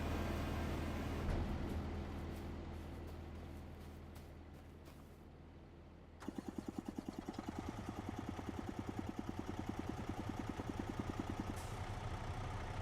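Truck engine in Farming Simulator 25, a steady low hum that fades, then restarts as a rhythmic, pulsing idle chug that continues to the end, moderately loud with no talk.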